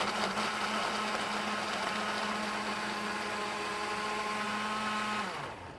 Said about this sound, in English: you just throw it all in a blender